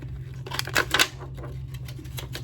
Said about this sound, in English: So we're just going to peel it out of the mold.